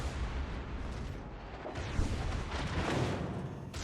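Warship secondary guns fire in World of Warships Legends, a dense, continuous rumble of battle with overlapping booming shots that pick up in the second half, loud and close.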